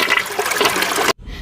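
A short burst of rushing water as a toy toilet is flushed during doll play, loud and continuous for about a second before cutting off abruptly to quiet.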